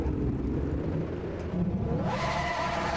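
A turbocharged car in Gran Turismo 6 pulls away from a standstill with a low engine drone that swells into a rising, high-revving whir as the turbo spools up, no talk.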